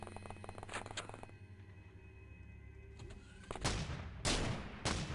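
In the video game The Xcom Files, three sharp, booming shotgun blasts fire in quick succession near the end, after a quieter stretch of tonal game ambience.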